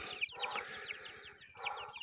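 Chickens cluck softly in quick, close chatter, a few birds overlapping at a low volume.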